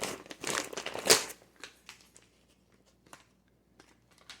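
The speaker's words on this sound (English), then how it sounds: "It's an easy open, easy tear pouch with a zipper inside." A freeze-dried food pouch is torn open, crinkly plastic crackling and tearing in a quick burst, followed by scattered faint rustles and zipper clicks.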